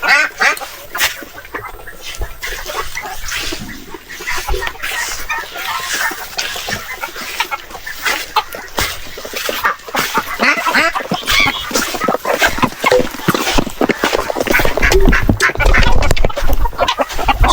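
Peking ducks quack loudly and repeatedly in a backyard poultry pen, joined by clucking chickens, in a busy, overlapping chorus that grows louder toward the end.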